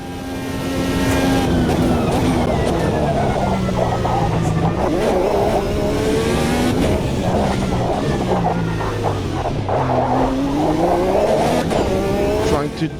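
A race car in the video game Automobilista 2 roars continuously at high revs, its engine pitch climbing and dropping through gear changes and corners, with a commentator's voice running throughout.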